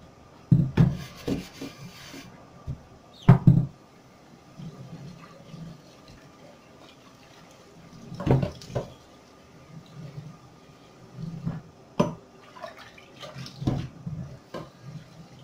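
Dishes are scrubbed and rinsed under a kitchen tap while rice cooks nearby. Irregular clatters, rubbing and splashing bursts come and go over steady running water, close to the microphone, with no talking.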